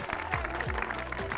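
Audience clapping at a college canteen event at Madan Mohan Malaviya University of Technology, Gorakhpur, a short burst of scattered hand claps mixed with crowd noise and voices.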